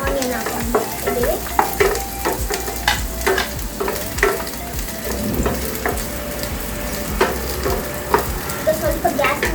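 Onion fries in oil in a pan and is stirred, giving a loud, steady sizzle broken by frequent scraping stirs up close.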